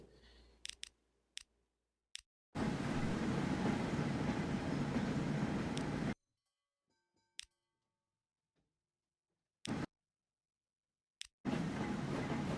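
Train running on rails in a video game, heard as bursts of steady rumbling rail noise that cut in and out between silent gaps, with a few sharp clicks scattered through the quiet stretches.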